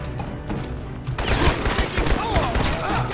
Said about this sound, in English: He hit me with a shotgun.